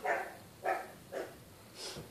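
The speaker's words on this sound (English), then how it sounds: "My dog is barking at me." A pet dog barks four times in a steady, spaced rhythm, fairly faint and close indoors, with no talking over it.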